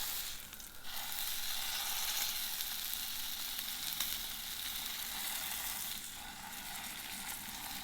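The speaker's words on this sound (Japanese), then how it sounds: "続いて反対側も4分ほど焼いていきます。" Bone-in duck breast searing skin-side in a pan, steady broad sizzle and spatter held at a moderate level throughout with slight swells, no talking.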